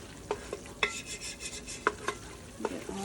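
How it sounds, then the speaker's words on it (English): Flour being stirred into a chicken wild rice soup base in a pot, with a spoon scraping and clinking against the pot amid light sizzling and several distinct tapping knocks, no voices. "we're gonna mix that in and let the flour cook out for a minimum of 30 seconds"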